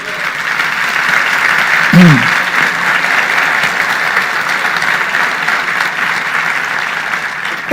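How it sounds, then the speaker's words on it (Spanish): A church congregation applauds in a long, steady roar of clapping that swells at the start and carries throughout, with a voice briefly speaking over it. "Un aplauso al Rey de Reyes."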